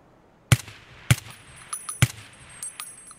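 Three sharp suppressed gunshots from Escape from Tarkov, spaced about half a second apart, each followed by faint metallic clinks and light rattles, with no speech.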